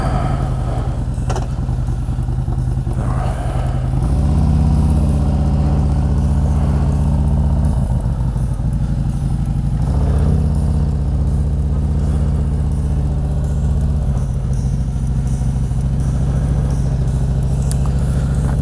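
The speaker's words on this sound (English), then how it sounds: "riding home from the Tobacco Road Harley-Davidson dealership" Harley-Davidson motorcycle on the road, a loud, steady low engine rumble heard from the rider's seat, with the pitch stepping up and down as the rider shifts gears, accompanied by wind noise.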